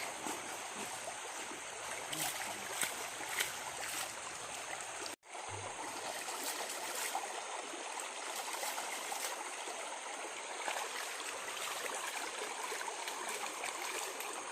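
Open water flows steadily at an outdoor bathing spot, a continuous rushing, trickling wash like a small stream, broken only by a brief dropout midway; no one speaks.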